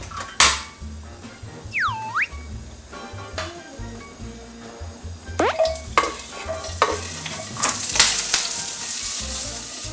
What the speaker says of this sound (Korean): 감자를 살짝 팬에 이렇게 구워야 되거든요.